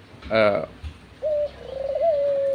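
A white female pigeon feeding its chick gives short soft coos and a longer wavering call, close and clear, with faint background noise and a brief voice nearby.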